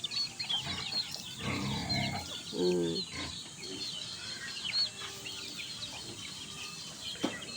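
Chickens cluck and a rooster calls nearby, with scattered bird chirps in a quiet farmyard.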